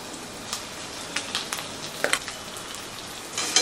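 Ginger and garlic fry in a pan for a veg Frankie roll as boiled mashed potato is added, giving a steady close sizzle broken by a few soft stirring knocks and scrapes, with no voice.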